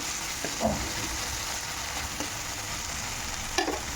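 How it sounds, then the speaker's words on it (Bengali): Ground spices sautéing in oil in a pan for a live prawn and fresh brinjal curry, with a continuous sizzle and occasional spatula scrapes and taps against the pan. "ভালো করে মশলাটাকে কষিয়ে নিচ্ছি"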